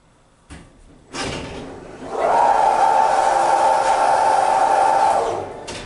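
A Schindler HT hydraulic elevator at a Dick's Sporting Goods store in Woodbridge Center starts up with a clunk, then its motor runs with a loud, steady hum and whine through the ride before easing off, with no talking.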